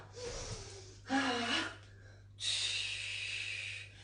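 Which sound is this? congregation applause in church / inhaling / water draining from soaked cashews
inhaling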